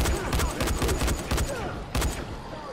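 Rapid gunfire in the video game Dying Light on Nightmare difficulty: a dense burst of repeated sharp shots, close and loud, with a short pause before a final few rounds.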